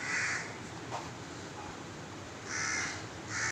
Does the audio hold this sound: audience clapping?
no